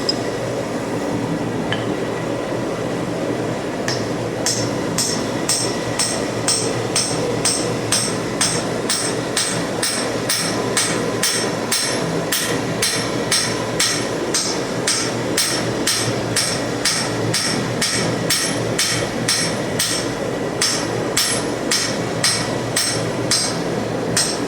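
Hammer blows ring out on hot steel as blacksmith tongs are forged from rivet-heated stock, a close, loud, steady rhythm of metallic strikes with no talk.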